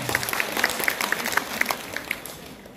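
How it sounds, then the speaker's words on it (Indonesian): An audience at a Balinese bondres comedy show claps in a brisk, lively burst of applause, with a few louder individual claps standing out before it thins slightly. "Tepuk tangan buat kita semua."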